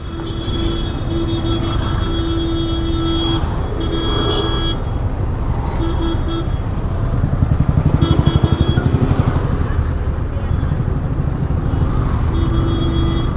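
A new Yamaha R15 V4 150cc motorcycle engine runs loud and close with a dense, steady roar, briefly swelling into a harder, pulsing rev partway through amid road traffic noise.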